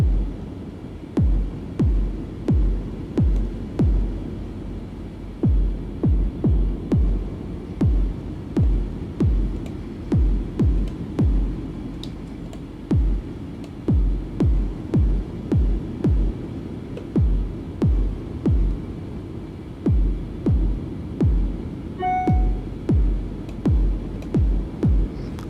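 Deep booming kick drum from an Icarus 3 synth, heavy hall reverb on each hit, repeats in quick regular pairs and bursts for about twenty-five seconds, loud, low and throbbing.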